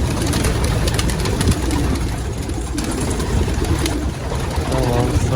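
Pigeons in a loft coo in low throaty bursts, close and fairly loud, several birds overlapping over a steady background hum.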